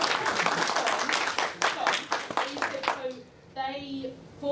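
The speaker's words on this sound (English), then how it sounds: "So maybe a round of applause for them." Applause from a small audience at a Salesforce architects' meetup in London, dense clapping for about three seconds before tapering off, with a voice starting to speak as it fades.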